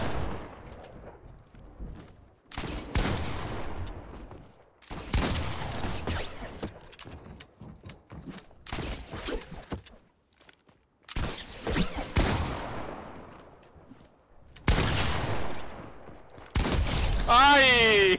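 Gunfire in a one-versus-one shooting video game, with bursts of sharp shots and clattering weapon mechanisms separated by quiet gaps, close and loud, and a voice speaking between bursts.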